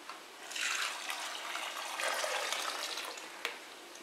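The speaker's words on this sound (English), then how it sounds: "I'm gonna dump this cup of water in here." A cup of water is poured into a Geigerrig Tactical 1600 hydration pack, giving a soft, steady gurgling splash for about three seconds, ending with a small knock.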